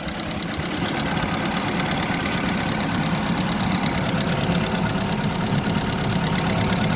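An Opel Astra H mk5 engine idles steadily and up close, a constant rough hum with a faint rattly knock running through it.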